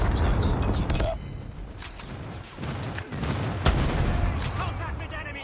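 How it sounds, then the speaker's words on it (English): Dense explosions and gunfire from an airstrike in Call of Duty Mobile, a loud continuous barrage with sharp booms near the start and middle. "Friendly airstrike incoming."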